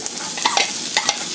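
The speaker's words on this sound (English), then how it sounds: "Celery is aromatic, so that'll bring up a lot of flavor when you stir fry it." Chopped celery sizzles in hot oil in a wok, a dense, steady frying hiss broken by a few quick scraping stirs, close and loud with no voices.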